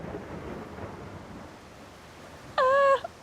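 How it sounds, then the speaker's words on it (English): A Finnish summer thunderstorm rolls in outdoors: low, distant thunder rumbles under a steady wash of rain and wind noise, then a brief, loud, high tonal call cuts in near the end. "now there's like a thunderstorm coming"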